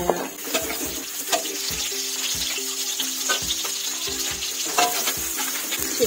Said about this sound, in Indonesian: Kita goreng sampai aromanya keluar.